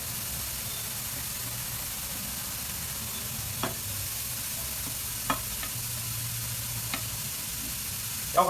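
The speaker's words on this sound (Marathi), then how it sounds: "आता गाजराचा किस टाकून दिलाय" Grated carrot frying in a pan for gajar halwa, a soft continuous sizzle with occasional stirring scrapes and taps of the spoon, fairly close and steady.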